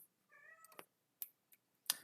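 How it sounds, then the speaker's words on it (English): A house cat meows once, close by and clear, a short tonal call followed by a few sharp clicks and taps in an otherwise quiet room. "Damn, my cat really, man. Can y'all hear my cat?"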